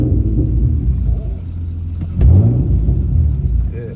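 A car engine idles with a low rumble, then revs briefly as the gas pedal is pressed, a short rising surge near the middle before it settles back to a steady idle.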